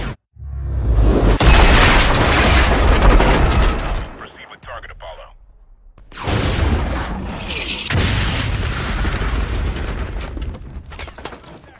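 Heavy airstrike explosions in the Call of Duty Advanced Warfare mission Throttle, a loud sustained roar of blasts and rumbling debris, dropping away briefly mid-clip before a second wave of booming impacts rolls in.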